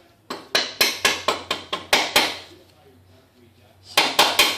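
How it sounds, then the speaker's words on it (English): A rubber mallet taps a motorcycle axle shaft on a ZX6R rear wheel: a quick run of about ten sharp knocks, a pause, then three more close up. "I like to just use a rubber mallet"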